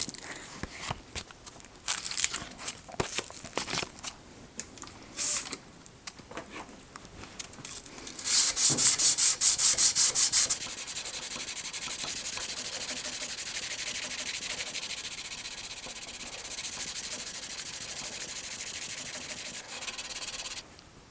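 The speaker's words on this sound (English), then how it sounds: "I'll work through my grits. I'll go from usually 120 down to 400, trying for a Scotch-Brite finish ultimately" Hand sanding of folding knife parts on sandpaper, working from 120 to 400 grit, gives a close, steady rasping rub, patchy scratches at first, then continuous strokes.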